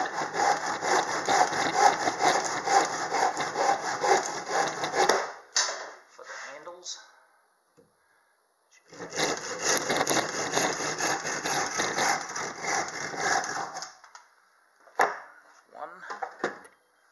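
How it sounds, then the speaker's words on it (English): Pieces of wood being cut with a hand saw: two long bursts of rapid, rhythmic rasping strokes, close and loud, separated by a pause, followed by a few short scrapes and knocks. "just need to cut a couple of pieces of wood."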